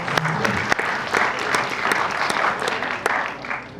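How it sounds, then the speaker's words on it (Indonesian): Audience applause fills a hall after a question-and-answer exchange, a steady dense patter of clapping with a few sharper individual claps standing out, moderately loud and continuous throughout. "And applause."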